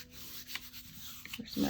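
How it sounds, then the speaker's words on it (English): Paper being rubbed by hand onto a Gelli printing plate spread with white paint: steady soft dry rubbing and brushing strokes, close and fairly quiet, with a slightly louder scuff at the end. "Give it a good rub."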